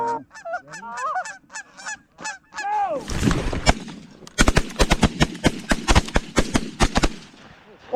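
During a goose hunt, geese honk repeatedly for a few seconds, then a rapid volley of many loud shotgun blasts follows close by in the field.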